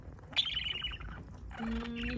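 A pet budgie chirps and warbles indoors in close, short, high trills with a brief pause between phrases.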